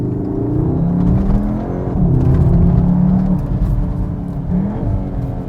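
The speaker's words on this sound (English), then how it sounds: "if you put it in Cupra mode, which is the raciest of the modes, on the steering wheel you get this very fake 5-cylinder noise" A 2021 Cupra Formentor in Cupra mode pipes in an artificial five-cylinder engine note, a close, loud, throaty drone that rises and falls as the car accelerates and eases off.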